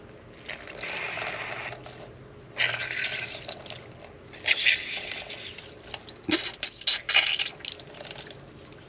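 Water splashing and trickling in bursts, wrung and dripping from a soaked towel, with brief pauses between pours; close and moderately loud.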